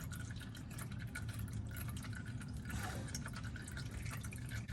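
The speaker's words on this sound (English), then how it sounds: "See, it's already dripping." Motor oil dripping from the filter during an oil change on a 2008 Corvette C6, a steady close trickle and patter of liquid under a constant low background hum, with no talk.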